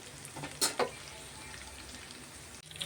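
Eggplant pieces frying in oil for a stuffed eggplant curry give a soft, steady sizzle, broken by a couple of sharp stirring clinks early on and a faint clatter at the end.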